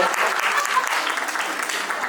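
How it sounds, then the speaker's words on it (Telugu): Guests at a first birthday party clap together in a dense, sustained round of applause, loud and close throughout. "ఒకసారి అందరు గట్టిగా క్లాప్ చేయొచ్చు"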